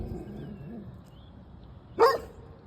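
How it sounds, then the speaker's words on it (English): A dog gives a single short, sharp bark near the end, following a stretch of low background rumble. "Stupid dog."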